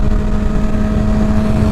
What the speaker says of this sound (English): Get some little downshifts going, see if I can manage.